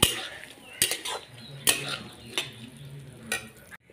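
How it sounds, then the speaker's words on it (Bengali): Chopped ash gourd stirred into half-cooked mung dal in a pan, with a steady low sizzle and several sharp spoon-on-pot scrapes and clinks spaced through the stir, close and fairly clear. "এখন এখানে আমি দিয়ে দিব কেটে রাখা চাল কুমড়াগুলো। দিয়ে ভালো করে নাড়াচাড়া করব।"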